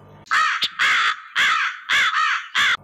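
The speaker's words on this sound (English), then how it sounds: "cawing of the crow." A crow caws loudly and close, five harsh calls in an uneven rhythm with short gaps between them, plus one brief clipped note near the start, all with no other sound behind them.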